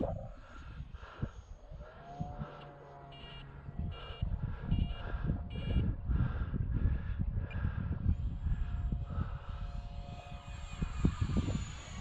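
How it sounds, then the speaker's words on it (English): An E-flite UMX F-86 Sabre micro RC jet with an electric ducted fan spools up outdoors, the whine climbing and holding steady at a moderate distance over a continuous low rumble. "Give yourself a little time for the spool up. It is an EDF."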